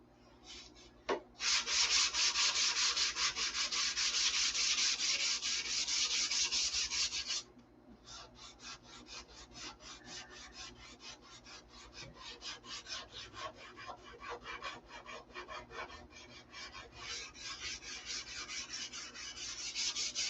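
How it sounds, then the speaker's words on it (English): Wood being sanded by hand: long, loud continuous rubbing strokes at first, then a quicker series of shorter back-and-forth scrapes, close up with no talking. "Get it all sanded off."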